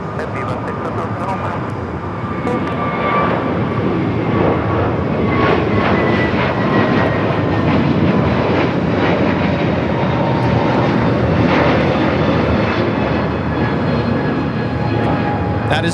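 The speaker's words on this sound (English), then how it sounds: "That is JetBlue 724 taking off to JFK on the A321neo." A JetBlue Airbus A321neo jet takes off at LAX, its engines making a steady, loud, broad roar that holds for the whole stretch and swells slightly midway.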